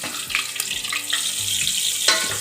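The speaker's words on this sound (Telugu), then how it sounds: "మిరపకాయలు కొంచెం వేగేసినాయి." Chillies frying in hot oil for a mutton paya curry give a steady close sizzle with crackling pops throughout, and no voices are present.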